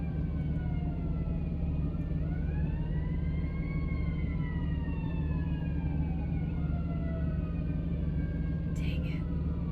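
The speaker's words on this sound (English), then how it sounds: "Oh my gosh, that's a lot of sirens." Several wailing sirens rise and fall over a steady low rumble of traffic, overlapping as they sound from a moderate distance.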